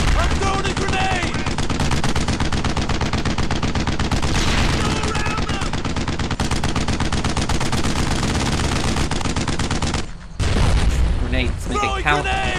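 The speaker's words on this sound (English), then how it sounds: "Squad, fall in! I'm throwing a grenade!" Sustained rapid machine-gun fire and explosions from the World War II game Brothers in Arms, loud and dense throughout, with shouted voices over the battle and a brief lull near the end.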